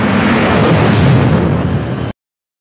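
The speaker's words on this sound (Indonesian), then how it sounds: "Di luar, kerusakan pesawat memicu ledakan kedua." A loud, continuous explosion blast from a damaged aircraft in a film, a dense roar lasting about two seconds before cutting off abruptly into silence.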